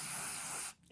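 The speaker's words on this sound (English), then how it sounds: "you want to get your cloth and just spray a little bit of contact cleaner" Aerosol can of contact cleaner sprayed onto a cloth while maintaining slot car controllers: a short, steady close hiss that cuts off abruptly, alone with no talk.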